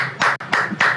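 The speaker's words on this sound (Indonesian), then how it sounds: "Saya tepuk tangan dulu." Three loud, close hand claps spaced evenly across a second, each a sharp broadband burst that decays quickly, from a lone person clapping indoors.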